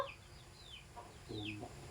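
A mother hen clucks in short, low calls on a rural farm in a Philippine province, with brief high bird chirps overhead and a steady murmur of background noise.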